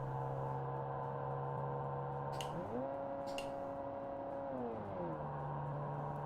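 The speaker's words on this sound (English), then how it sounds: "Low revving flat plane cranks sound really weird." Flat-plane crank engine in BeamNG revving at low rpm, a steady buzzy drone that steps up in pitch, holds, then drops back down, loud and close with no talk.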